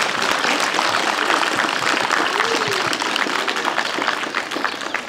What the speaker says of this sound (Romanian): care merită să fie aplaudați de dumneavoastră și vă rog să facem acest lucru cu toții